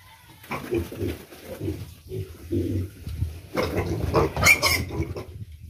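Pigs being sold grunt and oink close by in short repeated bursts, growing louder and busier toward the end, with no speech over them.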